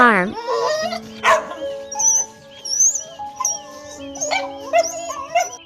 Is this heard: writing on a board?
no